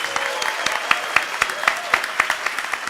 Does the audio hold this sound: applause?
yes